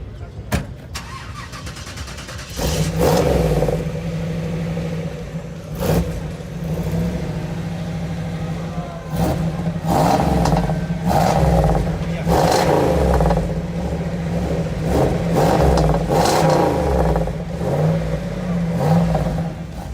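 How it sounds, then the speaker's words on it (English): A powerful Pontiac Firehawk V8 engine with a tuned exhaust starts and revs repeatedly, deep rumbling swelling and falling, with someone talking over it. "The sound of the Firehawk was something truly special."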